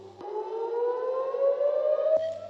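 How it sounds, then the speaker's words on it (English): A civil defense air raid siren sounds over the Israeli city of Ashkelon during cross-border clashes, a loud steady wail that rises slowly in pitch for about two seconds, cut in abruptly at the start and end. "siren sounds and explosions were in the air above the Israeli city of Ashkelon"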